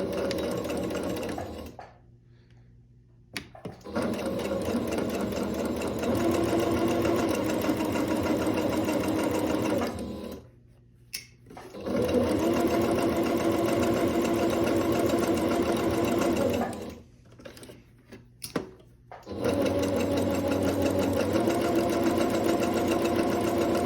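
A sewing machine stitches along a fabric edge while sewing a sleeve, running in three long steady whirring passes with brief pauses between them.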